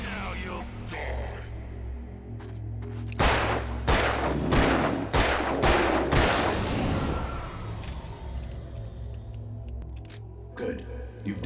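A string of sharp, loud gunshots in the Alan Wake video game, about half a dozen in close succession, then reverberant tails fading into ambience, with a spoken voice around them.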